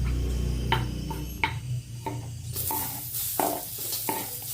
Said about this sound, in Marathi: आता आपण कांदा टाकणार आहे भाजायला कांदा